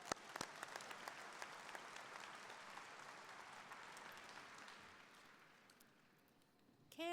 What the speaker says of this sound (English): Another round of applause for Justice Zara